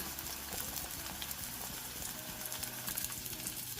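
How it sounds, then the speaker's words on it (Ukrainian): A pot of wild mushroom soup bubbling and simmering steadily on high heat, continuous and fairly close, with no talking. "Уже і суп у нас кипить"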